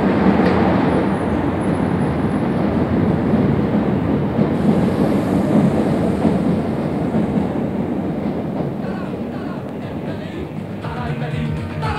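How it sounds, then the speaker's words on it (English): An underground train in East Berlin rumbles loudly and steadily along the track, a dense continuous roar with faint rattling that eases slightly toward the end. "it's from here that we take a train to Prenzlauer Berg."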